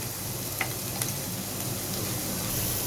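Tawa chicken sizzles and fries on a flat griddle, a faint, steady crackling hiss with a few soft clicks from stirring, alone with no voices.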